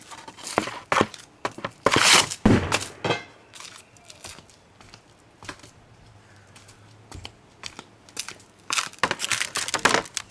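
Hockey pucks shot hard into a plywood target, a radar puck striking the board in loud broadband cracks, clustered early then again near the end, with quieter gaps of rustling between.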